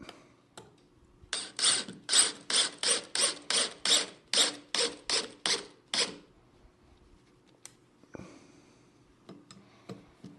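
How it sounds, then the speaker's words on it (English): A screw is driven into wood for a magnetic knife holder in a quick series of about twelve rhythmic ratcheting bursts, close up, followed by a few scattered clicks and handling noises. "I'm going to screw in just a little bit to get a bite"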